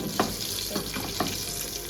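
Nigella seeds, mustard seeds and cumin sizzle and crackle steadily as they roast in hot oil, with a few louder pops and stirring scrapes close up.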